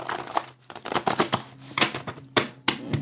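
Oracle cards being shuffled by hand, a series of quick papery riffles and slaps in uneven bursts, close and fairly loud, with short pauses between shuffles.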